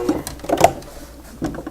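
A sewing machine stitches straight quilting lines on a small quilt project in a few short, close bursts of rapid needle clatter separated by brief pauses.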